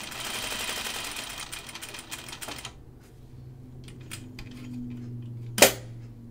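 A sewing machine top stitches a button-up shirt, running in a fast, rattling burst for about two and a half seconds before stopping, followed by a few quiet clicks and one sharp knock.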